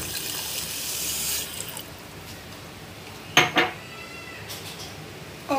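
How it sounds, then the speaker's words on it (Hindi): Water is poured from a faucet into a pan of sugar on the stove, a loud gushing splash lasting about a second and a half, followed by a few sharp clinks of cookware. "उसमें पानी डाल दें."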